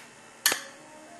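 One sharp, crisp click from a kitchen clock sounds in an otherwise quiet room, brief and close.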